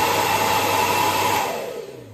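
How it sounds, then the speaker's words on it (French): A 2400 W hair dryer running off a VDLPOWER 2 kWh portable battery gives a loud, steady whooshing blower roar with a motor whine, then winds down and fades as it is switched off. "j'avais un sèche-cheveux"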